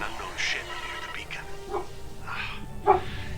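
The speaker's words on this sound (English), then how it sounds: "Sorry about that. That's my dog in the background there." A dog barks and whimpers faintly in the background of a room, a few short yips scattered beneath steady game sound and a voice.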